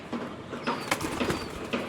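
Domestic pigeons kept in a home loft in Bangladesh coo softly in a low, murmuring pattern, repeated over a steady background hiss with no talking.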